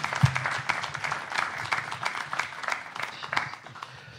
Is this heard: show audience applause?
yes